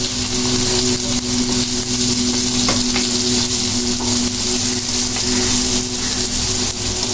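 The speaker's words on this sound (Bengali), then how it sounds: "বেশি করে পেঁয়াজ না দিলে মজা হয় না, একটু বেশি বেশি করে দিলে ভালো।" Garlic and a generous amount of onion fry in a pan with a loud, dense, continuous sizzle and crackle, close up, accompanied by a steady low hum and no voices.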